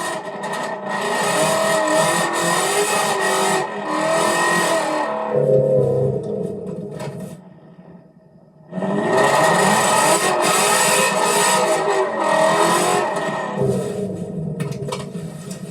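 A Ford Mustang GT350 and a BMW M4 CS drift, their engines roaring loud and close with tyre screech and a rough, distorted edge. The noise drops off briefly near the middle, then surges back at full volume.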